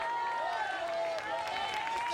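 A church congregation applauds, a steady wash of clapping mixed with ongoing singing or music, all at a moderate, even level throughout.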